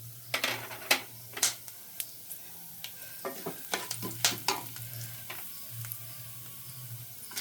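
Pepper and cumin sizzle in a pan for a Shivaratri prasadam, with soft frying crackle under repeated scraping and stirring clicks of a spoon against the pan, close and moderately quiet.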